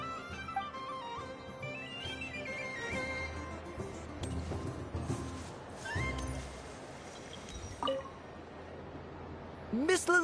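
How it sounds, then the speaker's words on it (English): A kitten in a video game meows in several rising and falling calls over soft game music, with a chime near the end. "A kitten's been following you all this time."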